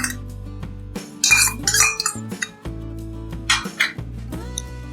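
Yogurt and spices, including black cumin and dried coriander, going into a bowl for dum biryani, with clinks and scrapes of a spoon against the dish coming in short bursts over a steady low hum.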